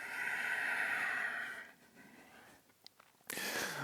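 A long, deep exhale during a hatha yoga session streams out steadily and close, easing off, followed by quieter breath noise and a fresh breath near the end.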